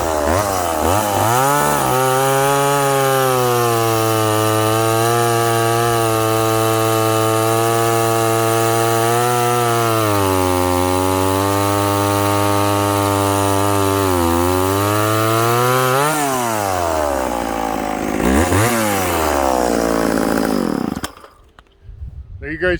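A McCulloch 10-10 chainsaw, freshly fitted with a rebuilt carburetor, runs loud and close at a steady high whine, revving up and down a few times before cutting off abruptly near the end.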